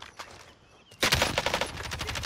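Rapid automatic gunfire in Call of Duty Modern Warfare Warzone erupts loudly after a quieter opening second of game ambience, sustained bursts of shots continuing to the end.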